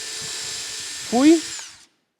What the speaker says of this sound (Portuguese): Fiz o furo, escariando com uma broca escariadora, nesse caso.